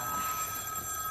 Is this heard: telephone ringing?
yes